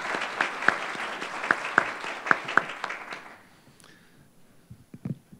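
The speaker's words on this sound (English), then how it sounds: "Please give one last round of applause for the group" A room of attendees at a groundwater sustainability agency forum claps for a group, sharp individual claps standing out before the applause thins and dies away to near silence, with a few soft knocks at the end.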